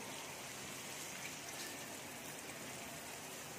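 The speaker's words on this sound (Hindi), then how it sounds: "साथ में थोड़ा सा पानी भी ऐड करेंगे।" Water poured into a sizzling beef karahi gives a dense, steady rushing hiss that holds evenly throughout, close and fairly loud.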